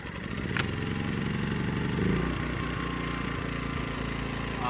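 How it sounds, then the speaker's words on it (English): Westinghouse iGen 2000 inverter generator starting and settling into a steady, loud, close engine drone with a constant hum and faint clatter. "Westinghouse iGen 2000 at the unit. Ambient noise, 45. Seems to be about the same. We'll go ahead and crank it up."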